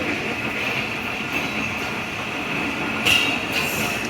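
Tezgam passenger train running at night near a station, a steady loud rolling rumble and rail noise throughout with a brief squeal or hiss burst near the end.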